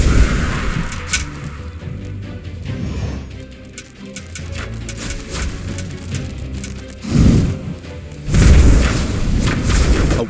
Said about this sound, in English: catapult shot